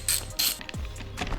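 10mm socket ratchet working a wiper arm nut on a BMW 1 Series F20, a few quick clicking ratchet strokes close to the microphone, with a faint metallic clunk.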